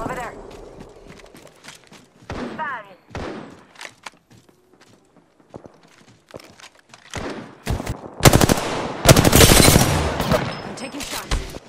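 Gunfire in the Apex Legends battle royale game, bursts of rapid shots clustered near the end and scattered single cracks earlier, loud and close, with game effects and talk mixed in.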